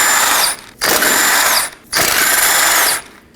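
A ratchet wrench clicks rapidly in three close, loud bursts, one per 17mm ball joint fastener on a Toyota Corolla, with short pauses between them.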